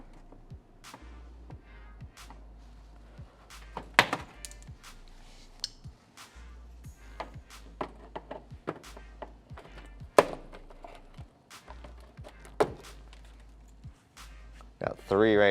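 Plastic trim clips pried out with a flathead screwdriver or trim tool on a Tesla Model 3/Y front bumper, a string of sharp close snaps, taps and clicks at irregular intervals with quiet handling between.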